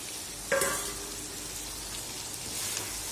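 Cut potatoes tumble into a pan of frying meat with a brief clatter, followed by a soft, steady sizzle close by and no talking.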